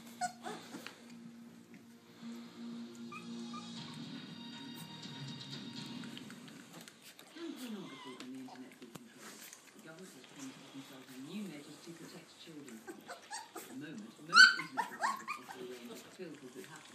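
Three-week-old puppies whimpering, yipping and giving small barks, high thin cries scattered through a quiet room with one louder yelp near the end, while a person speaks softly to them.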